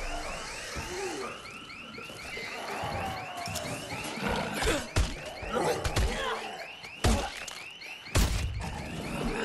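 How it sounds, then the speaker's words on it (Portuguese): Several car alarms wail in a Dead Island 2 video game scene, steady repeating warbling tones running throughout with thuds and impacts cutting in near the end. "tinha dois alarmes"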